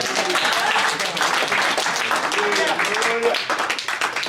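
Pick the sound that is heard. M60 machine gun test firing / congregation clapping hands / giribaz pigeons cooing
congregation clapping hands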